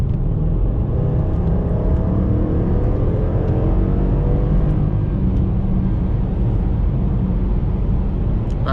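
A car engine in its sharper-throttle-response drive mode accelerates hard, its pitch climbing steadily over several seconds with a loud, droning roar heard from inside the vehicle.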